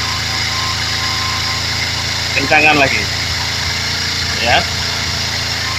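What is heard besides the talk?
Kawasaki Z250FI motorcycle engine idle rising after TPS adjustment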